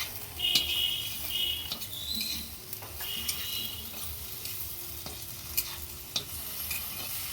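Atta flour fries in a pan with a soft, quiet sizzle, while light stirring scrapes and small ticks of a utensil against the pan come at an irregular pace. No one speaks.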